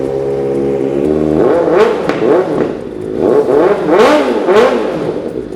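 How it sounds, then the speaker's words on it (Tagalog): A 2023 Kawasaki ZX-4RR with an inline-four 400cc engine and aftermarket exhaust idles, then revs up hard several times in rising and falling bursts, loud and close with no talking. "2023 ZX4RR. Inline 4 na 400cc, naka-exhaust na. Tapos 2K Odo lang to. Fresh na fresh. Siyempre, sound check natin."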